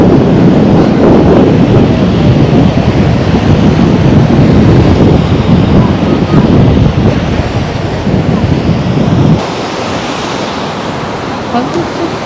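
Sea waves wash onto a beach at sunset, a loud, continuous roar of surf mixed with gusty wind buffeting the microphone; the rush drops abruptly to a quieter, steadier hiss near the end.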